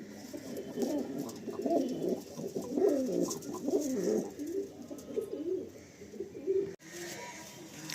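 Pigeons cooing at close range, a series of soft, throaty, rolling coos repeating over several seconds in a quiet space, bred top-quality birds kept for sale.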